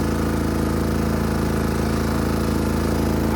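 A Craftsman garden tractor of about 20 to 21 horsepower with friction drive, plowing snow, its engine running steadily with a rough, knocking mid-pitched drone and vibration, close and continuous with no talk.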